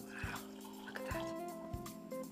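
Rum and gin cocktail being poured, a faint liquid trickle with small drips and clinks, close and quiet, with soft voices in the background.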